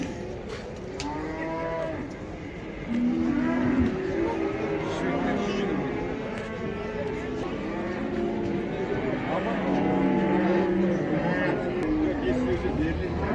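Cattle at a livestock market in Taraz moo repeatedly, several long low calls close by, with market chatter and voices talking underneath throughout.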